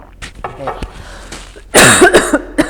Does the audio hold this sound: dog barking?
no